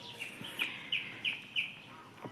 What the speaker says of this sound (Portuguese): O passarinho cantando.